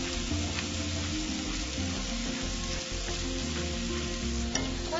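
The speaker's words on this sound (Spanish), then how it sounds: "Continúo cocinando hasta que las berenjenas estén tiernas." Small chopped eggplant pieces seasoned with salt and pepper fry in a pan with a dense, continuous sizzle and occasional stirring scrapes, steady and close throughout.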